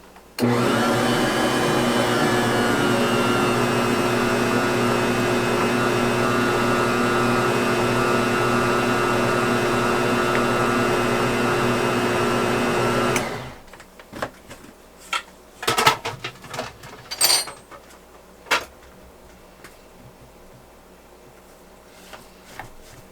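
A kitchen mixer churns peanut butter cookie dough made with fresh ground flour, giving a loud, steady motor drone for about thirteen seconds before it cuts off, followed by scattered clinks and knocks.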